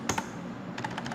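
Keys on a computer keyboard tapped out quickly while a date is entered: two quick clicks, a pause, then a tight run of about six keystrokes, close and fairly quiet, with no talking.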